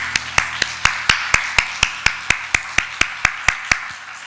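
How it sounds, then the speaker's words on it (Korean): A church congregation claps in an even, steady rhythm, about four sharp claps per second sustained throughout, close and clear with no talking. "하나님께 영광의 박수 올려드리겠습니다."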